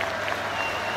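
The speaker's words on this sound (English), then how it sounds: "huge applause for Tom Hughes" Crowd applause during a rugby match between RGC 1404 and a Wales XV, a steady, dense wash of clapping from the stands heard throughout the brief moment.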